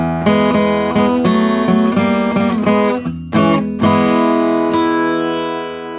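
Guitar plays the ending of a Chicago blues song, resolving to E: a quick run of plucked notes and chords builds to sustained, ringing final chords, loud and close.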